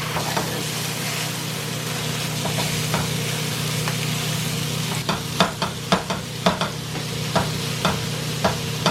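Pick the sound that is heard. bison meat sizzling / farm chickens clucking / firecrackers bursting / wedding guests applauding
bison meat sizzling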